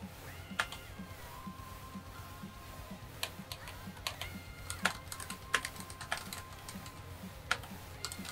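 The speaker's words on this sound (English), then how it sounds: "I'll stop typing." Rapid, uneven clicking of fingers typing on a computer keyboard, close and fairly quiet, with sharper keystrokes standing out over a low steady background hum and no talking.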